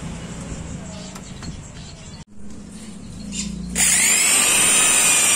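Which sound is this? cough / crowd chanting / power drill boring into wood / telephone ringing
power drill boring into wood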